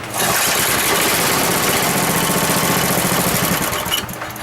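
Old rototiller engine roaring into life and running, a loud, rough, continuous small-engine rattle held close for several seconds before tapering slightly at the end.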